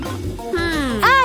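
A cartoon cat meows once in a rising, wailing tone, loud and close, with a second brighter cry breaking in right at the end.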